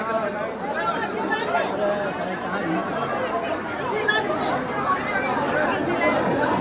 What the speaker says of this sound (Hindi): भयंकर भीड़ हो रही है भाई, धक्का मुक्की हो रही है भाई बहुत जबरदस्त।